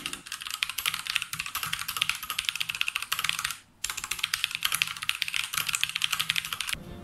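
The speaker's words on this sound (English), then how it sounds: "Here's a sound test for the Otimo Red version." Rapid typing on a Tecware Phantom RGB mechanical keyboard with Outemu Red switches, crisp and continuous up close, with a brief pause midway before the clatter resumes.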